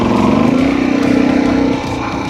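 A motorcycle engine revs hard and holds a high, buzzing note during a wheelie attempt, then drops off sharply toward a lower idle, loud and close with no talking.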